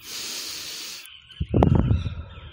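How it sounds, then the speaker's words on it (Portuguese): Diaphragmatic breathing: a steady hissing inhale through the nose for about a second, then a pause and a fuller, rougher exhale out through the mouth, close and alone. "A respiração diafragmática funciona com a gente puxando o ar pelo nariz e soltando ele pela boca"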